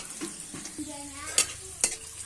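Garlic fries in a pan for a dish of bottle gourd greens, with a soft steady sizzle broken by several louder scrapes and knocks of stirring.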